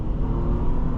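A close, deep 3.5-liter V6 engine roar from a 2004 Acura MDX Touring SUV accelerating holds steady and loud throughout a single second, heavy on rumbling low end.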